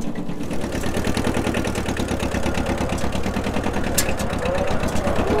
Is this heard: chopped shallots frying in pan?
no